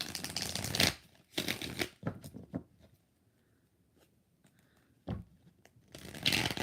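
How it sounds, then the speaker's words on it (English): Tarot cards are shuffled by hand in several quick riffling bursts, close and crisp, with quiet pauses between them and a final flurry at the end. "We got to shuffle one more."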